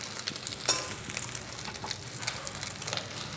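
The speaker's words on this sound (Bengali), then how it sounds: "এখন দেখো এই অমলেটটা খুন্তি দিয়ে কেটে কেটে কতগুলো পিস" An egg omelette sizzles in oil in a pan for omelette curry while a metal spatula cuts it into pieces, a steady frying hiss broken by a few sharp scraping taps.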